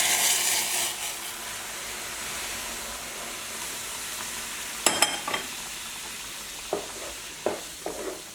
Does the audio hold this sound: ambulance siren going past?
no